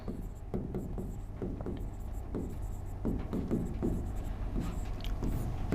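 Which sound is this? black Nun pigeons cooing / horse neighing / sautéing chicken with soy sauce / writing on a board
writing on a board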